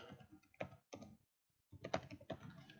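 Quiet, close typing on a computer keyboard in clustered bursts of key clicks with a brief pause in the middle, heard alone without talk.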